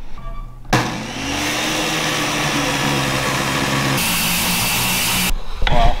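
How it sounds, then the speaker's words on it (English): An old circular saw cuts along a straight edge of an old truck tonneau cover rail, a loud steady whine that starts abruptly, runs for several seconds and cuts off, with no talking. "I'm using an old circular saw."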